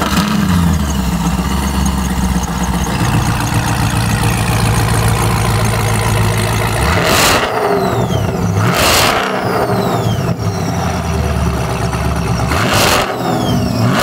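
A supercharged 2650 GMC Sierra truck engine revs hard with a steady high-pitched supercharger whine over a deep rumble, with sharp throttle blips near the end.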